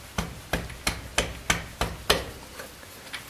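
About ten sharp, evenly spaced hand taps press a crankshaft oil seal into place, the last few softer.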